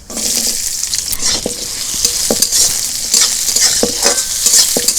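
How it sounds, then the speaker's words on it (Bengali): Onion and panch phoron frying in hot oil in a kadai, a bright continuous sizzle close by, punctuated by repeated spatula scrapes and taps as it is stirred. "কড়া গরম হয়ে গেছে তেল দেব পাঁচ ফোটন রাখা পেঁয়াজ"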